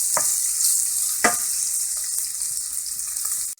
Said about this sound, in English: I'm going to add the onions, and I cook those a little bit until they get kind of glassy.